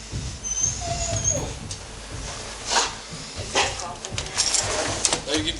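Puppies whimper and whine in short high cries scattered across the clip, mixed with rustling and outdoor noise while people talk nearby.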